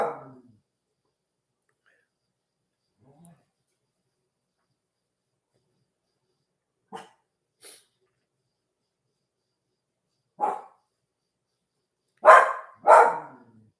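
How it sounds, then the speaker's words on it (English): A pet dog named Maggie barks indoors in a few short, separate bursts spread over quiet moments, with the last two barks loudest and close together near the end. "Why are you barking?"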